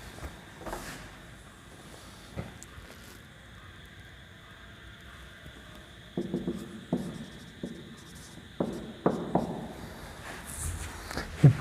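Marker or chalk writing on a board during a math lesson, faint scratchy strokes in short irregular bursts, growing busier toward the end over a quiet room hum.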